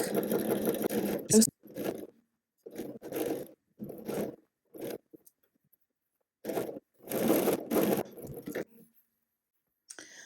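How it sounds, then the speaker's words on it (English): A sewing machine stitches a curved seam on a Hampden dress in short bursts of whirring, stopping and starting several times with quiet pauses between runs. "And now I am just going to sew"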